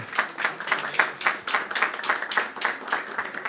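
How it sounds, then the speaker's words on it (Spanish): Audience applause closing an environmental noise seminar, a steady patter of many hands clapping at moderate distance, continuous for the whole stretch with slight swells. "les voy a pedir un aplauso para ellos"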